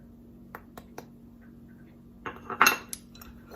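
Sweet potato pieces are tossed with paprika and garlic powder in a bowl: scattered light clinks and taps of a utensil against the dish, then a brief busier burst of scraping and clatter.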